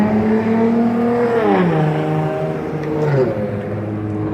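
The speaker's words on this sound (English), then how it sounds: "that was a Dodge Challenger V6" A Dodge Challenger V6 engine revving loudly nearby, pitch climbing and falling across two sweeps with a steady droning hum, no talk.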